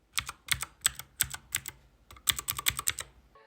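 Quick typing on a Keychron K6 mechanical keyboard with blue switches after a foam mod, a close run of crisp, slightly softened clicks in two bursts separated by a short gap.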